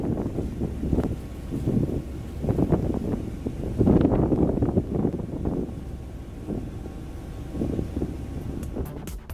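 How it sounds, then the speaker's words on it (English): Gusty wind buffeting a Nokia Lumia 1520 phone microphone on a ferry boat, a loud, uneven rumble that swells and eases throughout with no voices. "even with a face full of sun and wind, in this video shot from a ferry boat"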